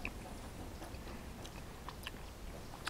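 Close, quiet chewing of a banana and cacao nib bar with slivered almonds, a soft steady crunch with scattered small crisp bites and no talking.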